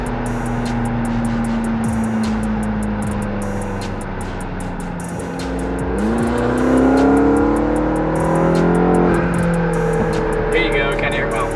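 A McLaren engine idles with a steady drone, then revs up with a rising, whirring pitch before settling back. Light exhaust burble can be heard close and loud, and someone talks over the engine.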